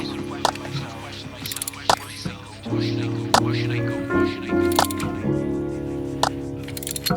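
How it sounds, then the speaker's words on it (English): Brake caliper piston wind-back tool turning on the rear brake of an Audi TTS, with close metallic ratcheting clicks and mechanical creaks over a steady low hum and occasional sharp ticks. "Slowly winding the piston in."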